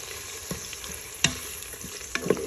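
Sliced onions frying in about half a cup of oil in a pan toward golden brown, a soft steady sizzle broken by a few sharp scrape-like clicks as they are stirred.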